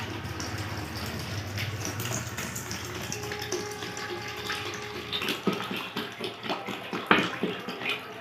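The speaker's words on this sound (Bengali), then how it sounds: "এই 2 লিটার জল আমি একটি বালতির মধ্যে প্রথমে ঢেলে দেব।" Two litres of water pour into a bucket in a steady, close rush that turns into uneven splashing and gurgling toward the end, with no one speaking.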